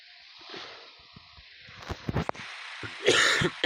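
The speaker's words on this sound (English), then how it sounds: "I keep coughing a lot." A few rough coughs and throat-clearing bursts, close and fairly quiet, with short gaps between them.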